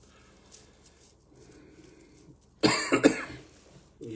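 A man gives a few harsh, close coughs in quick succession after a quiet stretch, loud and abrupt against faint background noise.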